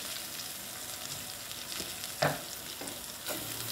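Chickpeas with coriander powder frying in a pan give a steady close sizzle, with a few stirring scrapes and clinks of the spoon against the pan and no voices.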